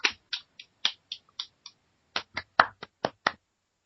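Two podcast hosts give a short burst of applause: about a dozen sparse, separate hand claps, close and dry, in two uneven groups with a brief gap between them and no talk.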